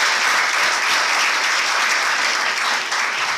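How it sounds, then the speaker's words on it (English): Audience at an International Women's Day celebration applauding, a dense, steady wash of clapping from many hands that stays loud throughout. "Can we give them a hand of applause,"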